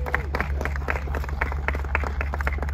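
Audience applause at the Quail motorsports gathering for the unveiled 2023 RUF Tribute car, a steady wash of many hands clapping close by, with scattered louder claps over a low background rumble.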